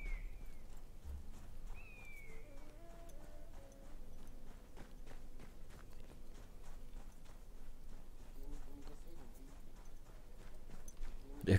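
Soft horse hooves clip-clop at a walking pace in the video game Battlefield 1, under ambient game sounds, with a few faint chirps and no clear speech.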